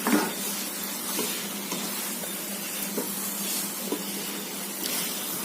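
Drumstick thokku sautés in a pan, a steady hissing sizzle that stays even throughout with faint stirring bumps, close and unaccompanied by speech.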